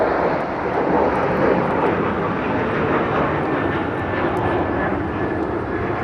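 An airliner in Orca livery lands at LAX, a loud, steady jet roar with a broad rumble that holds evenly for a few seconds near the listener.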